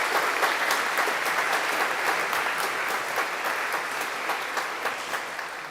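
Enthusiastic audience applause at a tech expo, dense clapping from a crowd that holds steady for several seconds and slowly fades slightly toward the end.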